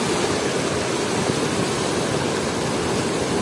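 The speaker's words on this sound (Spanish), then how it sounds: "Y el río está fuerte, ¿eh?" A strong river rushes in a broad, steady roar of flowing water near a forest trail, loud and continuous with no voices.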